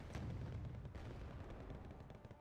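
Artillery barrage in the real-time strategy game Wargame Red Dragon: dense, continuous low rumbling booms overlap into one heavy roll of explosions, loud and sustained without a break.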